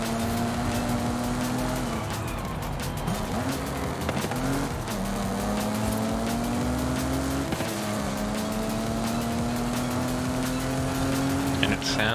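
A race car engine in Forza Horizon 5 revs and climbs through gears with rising whines and shifts, tires occasionally squealing, while a voice talks over the steady, loud driving.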